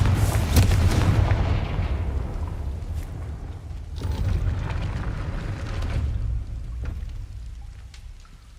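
A Confringo blasting spell going off in Hogwarts Legacy, with a loud booming burst at the start followed by a rumbling, crackling tail and smaller impacts fading over several seconds, with no talk.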